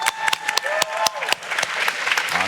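Audience applause for an original song at a live event, a short burst of clapping with sharp individual claps standing out and a faint sustained tone underneath.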